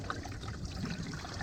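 Water trickling and dribbling steadily out of a leaking Duramax engine's water pump housing, a continuous close, soft splashing with no pauses.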